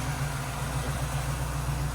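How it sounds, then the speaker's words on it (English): Buick Grand Camino custom with aftermarket headers idling with a small exhaust leak, a steady low rumble with a faint ticking pulse, close and continuous, no talk. "I hear a little exhaust leak, I think."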